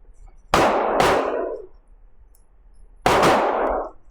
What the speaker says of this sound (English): I'm shooting some Blazer, CCI Blazer 124 grain. So yeah, so let's take some shots and see how it goes.